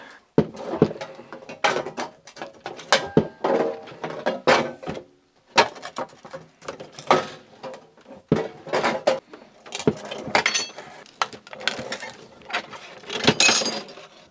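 A replacement metal piece for a Citroen BX is cut by hand, giving a rapid, uneven series of close, sharp crunching and clinking snips with no talking.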